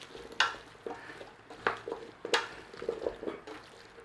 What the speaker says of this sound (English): In with our potatoes. Give them a stir in.